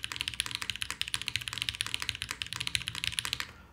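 Typing on a KBDFan KBD8X aluminum mechanical keyboard: a steady run of quick, close clicky-clacky keystrokes with a slight resonant ring, continuing for several seconds before stopping.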